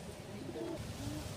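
A Jansen pigeon from a first clutch coos softly and low, a brief murmuring call under faint background noise, heard close but quiet.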